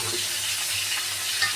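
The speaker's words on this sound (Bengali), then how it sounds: "পটল আমার লাল লাল করে ভাজা হয়ে গেছে, এবার আমি দিয়ে দেবো এর মধ্যে আলু" Potatoes hit a pan of fried pointed gourd and sizzle steadily, a soft, continuous frying hiss with a low hum beneath and no voices.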